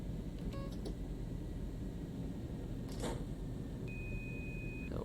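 Single steady electronic beep tone in a train cab in Train Sim World 3, on the Bremen to Oldenburg line, lasting about a second over a constant low rumble of the moving train, with a few faint clicks earlier.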